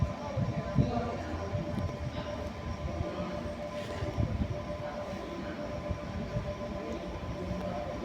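A Vivalto double-deck train rumbles in at Pontedera Casciana Terme station, a steady rail roar and rolling clatter at moderate level throughout, with voices talking over it.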